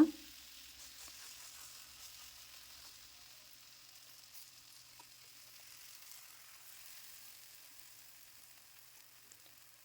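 Soft, steady sizzle of a poha (flattened rice) roti cooking on a hot tava over a gas flame, with a brief louder contact at the start, then faint and continuous.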